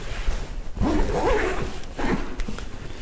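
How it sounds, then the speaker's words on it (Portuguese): Zipper on the front pocket of a Natura maternity diaper bag, pulled in a couple of quick rasping strokes close up, with no talk. "no bolso frontal a gente tem um bolso com zíper."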